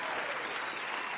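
Dense, steady applause fills a red carpet screening for a family-themed film, a continuous wash of many hands clapping at an even, loud level with no break.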